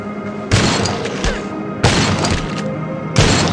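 Three loud gunshots in the zombie survival game Dawn of Zombies: Survival, each a sharp booming crack with a short ringing decay, spaced about a second and a half apart with no talk.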